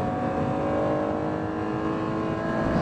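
A first-generation Acura NSX's VTEC V6 engine held at high revs above 6,000 RPM, a loud, steady, close-up howl sustained throughout with no talking.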